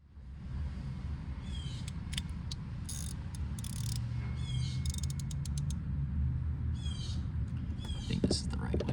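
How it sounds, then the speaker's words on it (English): A ratchet on an extension works a 7mm bolt on a second-generation Chevrolet Cruze, giving several bursts of quick clicking over a low background hum, faint and close. "I'm gonna take this bolt out right in here, and this one is gonna be a 7mm"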